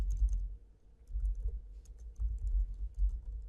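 Soft, rapid clicking of a computer keyboard as someone types in a code editor, steady and quiet, recorded close with no voices.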